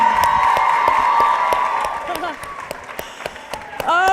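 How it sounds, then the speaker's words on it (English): Applause and cheering from a rally crowd for girls standing on stage, steady at first and fading into scattered claps with a voice speaking over it and a sharp whoop near the end. "Big round of applause for these fearless girls up here."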